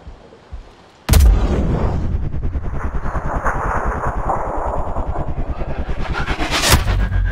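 A sniper rifle fires in the shooter game Sniper Ghost Warrior Contracts: a sharp, loud crack is followed by a long roaring rumble, and a second sharp report comes near the end.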